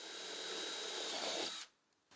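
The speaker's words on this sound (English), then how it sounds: "mark and pre-drill 3/16 of an inch holes through the pull bar" Power drill boring 3/16-inch pilot holes through the pull bar of a Mirage retractable patio slider screen, a steady close whir for about a second and a half before cutting off, then near silence with a faint click at the end.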